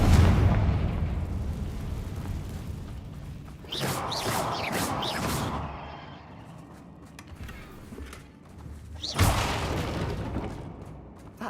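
Fiery blasting-spell explosions in the Hogwarts Legacy video game, with two loud bursts near the start and a third a few seconds later, each a sharp crack trailing into a rumbling boom over steady game ambience.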